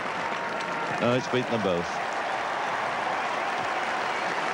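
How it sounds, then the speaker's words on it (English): A cricket crowd at Headingley applauds Tony Greig's four during a 1976 England v West Indies Test, a steady wash of clapping heard from a distance while a commentator speaks briefly over it. "claiming fine ovation from this crowd here at Headingley"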